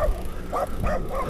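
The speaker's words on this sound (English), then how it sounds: "This is my license to bark." A dog barking and yipping in a short burst of three or four close, high-pitched barks, loud and alone with no talk.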